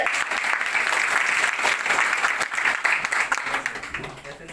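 An audience at a company sales award and gift ceremony claps loudly and continuously, the applause holding steady and then fading slightly toward the end.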